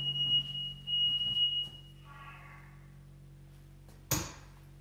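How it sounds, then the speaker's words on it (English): Smoke detectors in a very hot house under renovation sound a steady high-pitched electronic tone with short beeps, then fall quiet and are followed by a single sharp knock near the end. "Our smoke detectors are going off and saying there's a fire."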